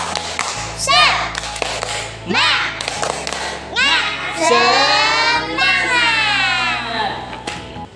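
Schoolchildren in a classroom perform the rhythmic 'tepuk semangat' clapping chant, with loud sung and shouted voices over patterned claps in several phrases.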